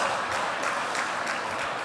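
Steady applause from an audience at a chamber of commerce annual leadership awards evening, a dense wash of clapping that holds at an even level for a couple of seconds.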